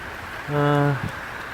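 Heavy rain pours down in a night thunderstorm at a flooded fishing spot, a steady close hiss throughout, with a short voiced sound rising briefly in the middle.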